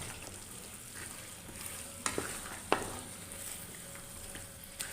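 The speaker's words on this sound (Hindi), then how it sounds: "अब इसे डालकर 5 मिनट तक इसे हमने मज़ीद भूनना है" Green chickpeas frying in a pan for a curry, a faint steady sizzle with a few soft utensil clicks against the pan and no talk.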